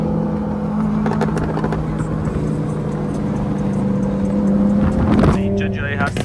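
Idling supercars, Lamborghinis among them, gathered at a meet in Australia, a steady engine drone with a rising rev near the end, while people talk nearby throughout.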